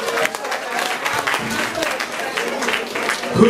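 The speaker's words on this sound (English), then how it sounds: "So please encourage him by giving me another round of applause," A crowd claps steadily and densely throughout, with a few voices mixed into the applause.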